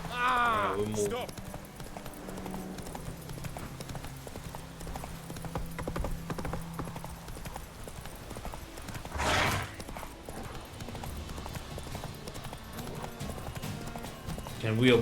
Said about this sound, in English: Where's our horse? Here's the horse.